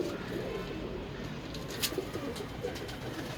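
Pigeons softly cooing in a loft, including rooftop pigeons and Sialkoti, Rampuri and Teddy breeds, faint and distant beneath a steady wash of outdoor noise, with a few brief higher chirps.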